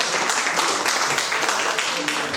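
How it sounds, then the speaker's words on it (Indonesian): Seminar audience of school teachers at an air base in Indonesia applauding, a dense, steady wash of clapping from many hands throughout, fairly loud and close, with crowd murmur underneath. "tepuk tangan dulu untuk kita semua."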